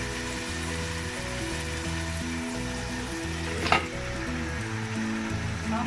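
Beef pieces for a curry with new potatoes hit hot frying spices in a pan and set off a steady, close sizzle that crackles throughout, with a sharper burst of spitting near the end.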